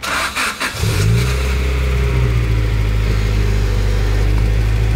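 A Honda Integra engine catches and revs up, then holds a loud, steady, droning rev close by after a few brief rough bursts at the start; no one talks over it.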